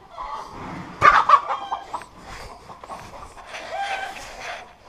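A hen clucks and chatters close by on a farm during rapeseed sowing, with a sharp burst of clucks early on followed by softer, intermittent chatter over background noise.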